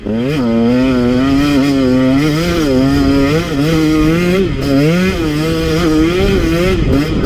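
A 2017 KTM 150 XC-W two-stroke dirt bike revs hard and loud on single-track trail, its engine note climbing and dropping through repeated throttle swells and a gear shift, close and continuous with no talk.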